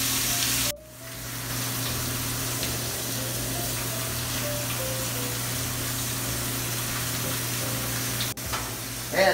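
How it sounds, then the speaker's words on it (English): Steak searing in a hot pan gives a loud, steady sizzle and crackle close by, continuous throughout with a faint low hum beneath and a brief clatter at the start and near the end. "sear the other side"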